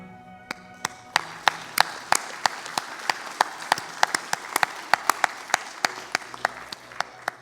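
An audience at a winter graduation ceremony applauds master's graduates with sparse, scattered clapping, some claps sharp and close, continuing steadily throughout.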